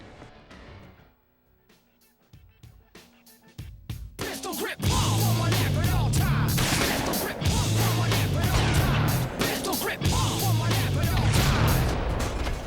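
Rapid bursts of weapon fire from the video game Halo, repeated in loud rhythmic volleys with booming low impacts under game ambience after a quiet opening.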